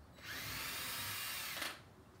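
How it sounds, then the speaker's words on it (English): Power drill boring hinge holes into a kitchen cabinet door during a kitchen fit, a steady loud whine that runs for about a second and a half before cutting off, with no talk over it. "Always drill your hinge so the hinge don't move."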